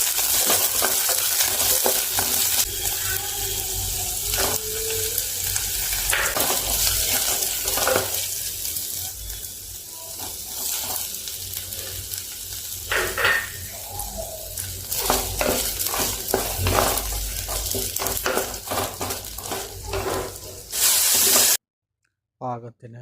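Tomatoes sautéing with onions, chilli and ginger-garlic paste for a Kerala-style fish curry, a steady close frying hiss with stirring and scraping throughout, broken by brief clatters and a sudden cut near the end.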